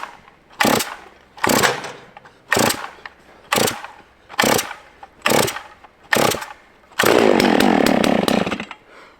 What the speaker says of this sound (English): To start it, you squeeze the trigger, bring it all the way down into the start position, just like any other Stihl chainsaw.